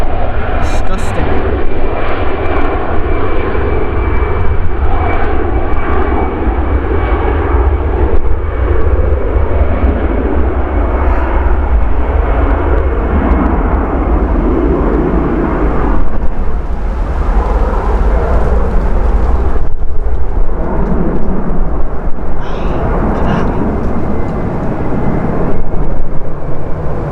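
Flybe and British Airways aircraft passing at Manchester Airport, loud rumbling jet engine noise that swells and fades as each one goes by, with people talking throughout.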